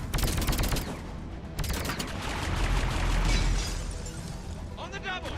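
Rapid gunfire aimed at the player in a video game comes as loud, dense volleys of shots that swell and fade, with a brief voice-like burst near the end.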